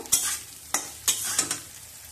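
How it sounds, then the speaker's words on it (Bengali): Potatoes being stirred with turmeric powder in a frying pan, several scraping strokes of a spoon against the pan over a soft oily sizzle, close and fairly quiet. "হলুদের গুঁড়োটা দিয়ে আলুটা আরেকটু নেড়ে নেব"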